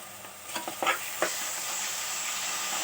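Ginger paste stirred into a frying potato and brinjal curry, a few scraping stirs and a brief rise in sizzling, then a steady soft frying hiss, near and moderately loud with no voices.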